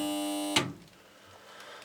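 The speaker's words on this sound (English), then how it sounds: "which after 1 second switches a contactor, which is the sound you heard" A tumble dryer timer switches a contactor: a steady electrical buzz cuts off with one sharp click about half a second in, followed by near silence with faint room noise.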